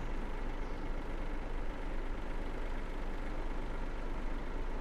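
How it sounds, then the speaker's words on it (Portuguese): A truck engine in World Truck Driving Simulator gives a continuous low, even drone that stays steady without revving. "hoje nós estamos com esse caminhão"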